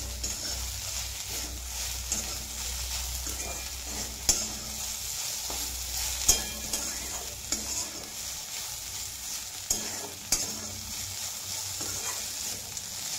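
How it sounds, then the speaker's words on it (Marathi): Spices being stirred into okra frying in a pan, a continuous close sizzle broken by repeated scraping strokes of the spoon at a loose, irregular rhythm, with no talking. "हे मसाले घालून घेऊ. आणि मिक्स करून घेऊ याला."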